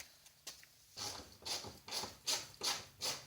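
A ratchet undoes bolts on the rear beam of a Peugeot 306, giving a quiet, close run of clicking strokes that turn into a steady rhythm of about six pulls after a brief pause.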